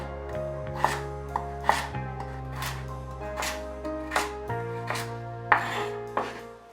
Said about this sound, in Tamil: அடுத்ததாக தேவையான அளவு கேரட்டை நல்லா நம்ம சின்ன சின்ன பீசஸாக கட் பண்ணி எடுத்துக்கலாம்